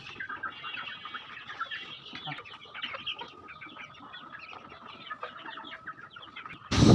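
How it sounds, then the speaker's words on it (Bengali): Young tiger chickens, chicks of about half a kilogram each, cluck and chirp steadily in a cluster throughout, close and moderately loud, with a brief louder knock at the very end. "এই টাইগার মুরগির বাচ্চাগুলো প্রতিটা প্রায় হাফ কেজি করে, 500 গ্রাম।"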